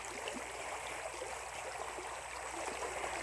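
A clean river stream flows with a continuous, even, broadband rush of moving water, fairly close and unbroken, with no voices.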